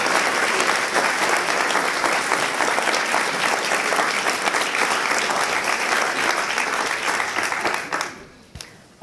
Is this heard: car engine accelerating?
no